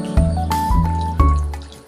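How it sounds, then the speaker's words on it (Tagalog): Water splashes and pours into a metal pot of chicken pieces in short, loud bursts, with ringing resonant tones from the vessel. "maglalagay tayo ng tubig"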